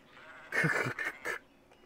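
A sheep in the Trainz railway game bleats in three short wavering calls, close and clear against a quiet background.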